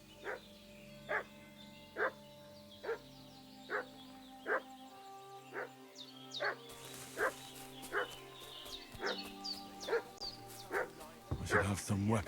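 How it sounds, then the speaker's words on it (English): A dog in the medieval open world of Kingdom Come: Deliverance II barks in a steady, insistent series of about a dozen sharp woofs, each roughly a second apart, over quiet village ambience. "What's that dog making such a fuss about?"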